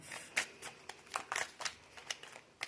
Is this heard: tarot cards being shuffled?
yes